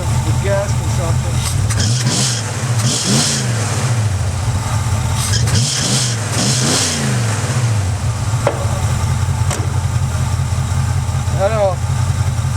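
A Ford Mustang engine idles steadily with a low rumble, and a few short blips of throttle rise and fall over it. Someone talks intermittently throughout.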